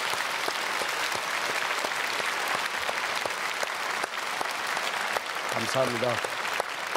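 A church service congregation applauds steadily for several seconds, a dense, even patter of clapping, with a brief spoken voice near the end.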